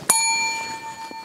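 A bell is struck once with a bright, clear ding that rings on and slowly fades, followed by a faint second tap near the end.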